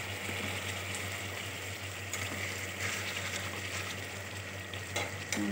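Fish sizzles steadily as it fries in a pan, a constant close hiss with a low hum beneath and a couple of brief clatters as the pieces are turned.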